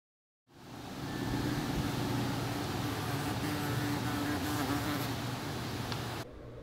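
A German yellowjacket wasp (Vespula germanica) buzzes close to its paper nest, a steady, dense droning hum that starts abruptly and holds evenly for about six seconds before cutting off.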